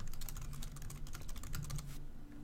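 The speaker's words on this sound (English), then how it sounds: "I'm going to type in the link" Quiet, rapid keystrokes on a computer keyboard, a quick irregular patter of clicks lasting about two seconds before stopping.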